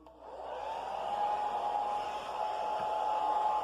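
A hair dryer blows close by for drying hair, with a steady, even whoosh and a high motor whine that holds from start to finish.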